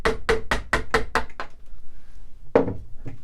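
Sharp wooden knocks of a mallet on a chisel, cutting out a wood plug that hides a screw in furniture: a rapid run of about seven close, loud blows, a pause, then two more strikes.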